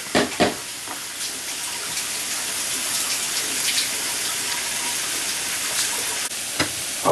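Onions and potatoes fry in a stone-coated skillet with a continuous close sizzle and a few clinks of utensils, and no voices.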